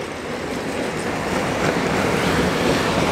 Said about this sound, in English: trams of Ufa.